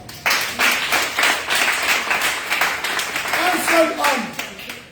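A church congregation claps in steady rhythmic waves with voices acclaiming and cheering over it, moderately loud and continuous throughout.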